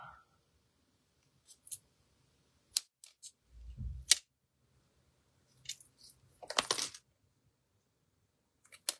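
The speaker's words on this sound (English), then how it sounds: "Just cut that off." Scissors cut paper for a handmade card in a quiet room. A few sparse, faint snips and clicks come with brief rustling of paper between them.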